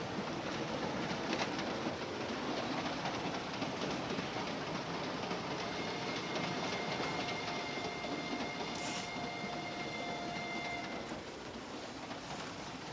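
A passenger train runs steadily on its rails, its loud continuous rumble and rattle filling the whole stretch alone, with faint high squeals from the wheels in the middle and a slight drop in level near the end.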